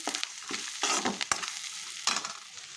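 Freshly ground ginger paste and turmeric fry in hot oil in a pan for a spinach curry, a close crackling sizzle broken by several brisk stirring scrapes and bursts, with no talking.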